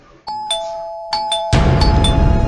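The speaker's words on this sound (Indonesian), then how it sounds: "Tiba-tiba terdengar suara bel rumah berbunyi." A house doorbell sounds several bright ding-dong chimes in quick succession, loud and close, with a fuller burst of noise joining partway through.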